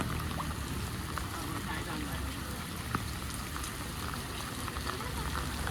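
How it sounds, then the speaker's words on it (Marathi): River floodwater mixed with gutter runoff flows past in a steady, continuous rushing wash, uniform in level throughout, with no distinct splashes standing out. "अर्ध नदीचं पाणी, अर्ध गटरीचं पाणी"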